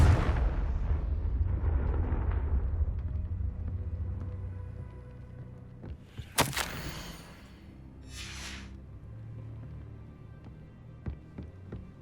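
A fiery Confringo blasting spell bursts with a single sharp, loud explosion in Hogwarts Legacy, rising abruptly over a low rumbling game ambience and trailing off into a brief crackling tail.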